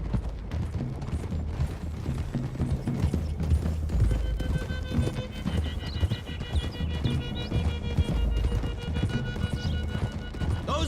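Horses gallop in a Red Dead Redemption 2 game scene, a steady clip-clop of hooves with occasional neighs and whinnies, continuous and fairly loud over a low rumble and music-like tones.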